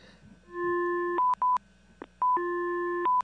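Telephone dialing tones while a phone line is checked: two long steady tones, each followed by a quick run of short keypad beeps, loud and clean over a faint low hum.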